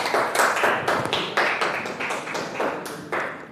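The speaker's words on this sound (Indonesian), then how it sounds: "tepuk tangan untuk kelompok 4" Classroom applause for a student group, a dense steady patter of many hands clapping together, fairly close and continuous with small swells, no talk over it.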